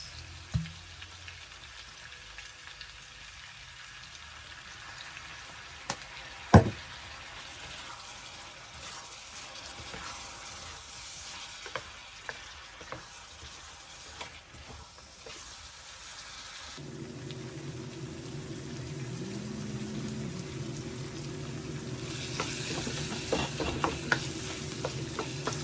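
Lamb chops fried rice frying in a pan with dark soy sauce, a low sizzle with scattered stirring clinks and one sharp knock, the sizzle swelling louder and fuller in the last stretch.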